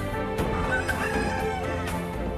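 Chickens on a farm in Wando make a continuous dense din of clucks and calls, loud and close throughout the short stretch.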